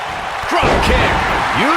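A heavy drop-kick slam lands in an anime wrestling video game, a loud broadband thud about a third of the way in, then sustained crowd roar with a voice speaking over it.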